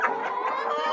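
Laying hens on a poultry farm cluck and chatter together while feeding at wooden feeders, a dense, continuous flock murmur close by with overlapping calls and no talk.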